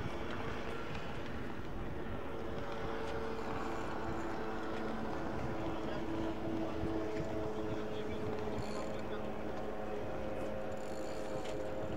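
Small boat's engine droning steadily at a distance, a low continuous hum with faint wind and water noise around it, holding even throughout.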